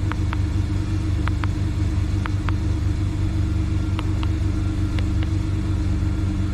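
A car engine idles steadily just after starting, a low continuous rumble with faint regular ticking clicks about once a second and no voices.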